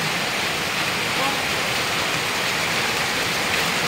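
Steady, dense rushing of heavy rain, a loud unbroken hiss that fills the space without pause.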